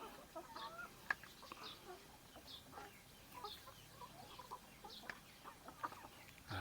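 Chickens cluck softly and intermittently at a farm feeding area, faint scattered calls from several birds at moderate distance with no talk.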